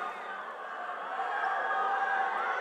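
Crowd at a SkillsUSA opening ceremony making noise on cue, a broad, sustained roar of voices and cheering that swells slightly louder toward the end.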